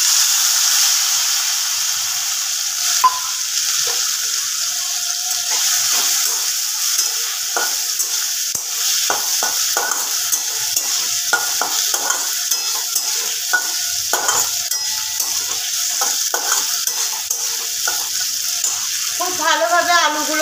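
Potatoes frying in hot oil with turmeric, a loud continuous hiss and sizzle with scattered stirring knocks and a few spoken words.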